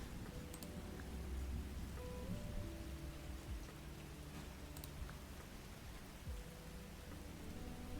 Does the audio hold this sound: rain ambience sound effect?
yes